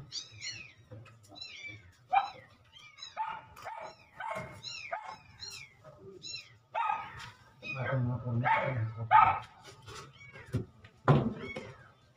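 Several cats meow repeatedly in short, high calls, with some scuffling and a few lower yelps mixed in, close and fairly quiet.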